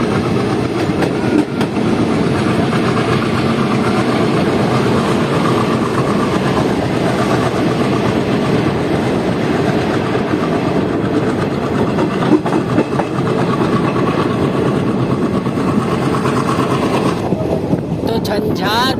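The Danapur–Jogbani Express runs along the track with a steady, loud rumble and rhythmic wheel clatter heard from on board, continuous throughout the stretch.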